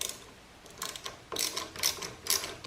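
Motorcycle lever adjuster spun by hand, giving a quiet series of light ratcheting clicks in uneven bursts, close and faint.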